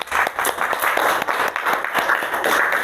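A sixth-grade classroom claps for a group, with quick, dense, steady applause that stays loud throughout and has no talking over it.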